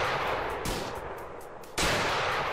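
Two sharp, loud gunshots from a Hitman video game, one near the start and one about a second later, each a hard crack with a brief ringing tail over a busy game background.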